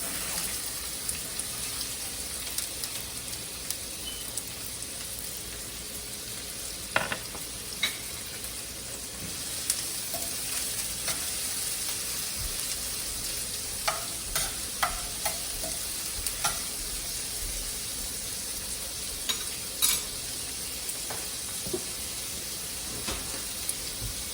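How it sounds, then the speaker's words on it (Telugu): Chopped onions hit hot oil for a soya chunks and palak curry, giving a continuous bright sizzle. Scattered clicks and scrapes of stirring come through now and then. "ఆయిల్ వేడెక్కిందండి, ఉల్లిపాయలు వేసేస్తున్నాను."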